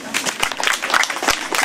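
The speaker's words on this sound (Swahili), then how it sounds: "mjipigie makofi" A small audience at a Rorya community farming gathering claps together in a brief, close burst of dense, irregular applause.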